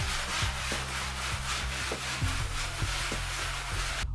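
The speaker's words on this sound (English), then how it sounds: "use sandpaper to smooth down any severe bumps in the wall" Sandpaper rubbed across a wall surface to smooth down bumps, a steady close scratchy rasp with repeated back-and-forth strokes over a low background hum.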